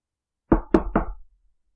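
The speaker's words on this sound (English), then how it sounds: "And there was a knock at the door." Three firm knocks on a door in quick succession, close and loud, then quiet.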